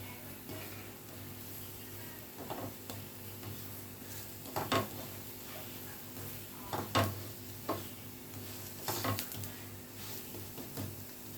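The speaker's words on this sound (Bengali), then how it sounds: "আমি এখানে আলুর পরোটাগুলো খুব ভালোভাবে কড়া করে ভেজে নিচ্ছি" Potato parathas frying crisp in a pan over a raised flame, with a soft steady sizzle and a few spatula scrapes and taps against the pan, fairly quiet with no talking.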